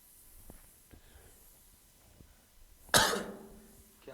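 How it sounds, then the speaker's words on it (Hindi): A single loud, harsh cough bursts out in a quiet room during a chemistry class, decaying over about a second with faint background clicks before it. "क्या खांसी है"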